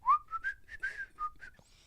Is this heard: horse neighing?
no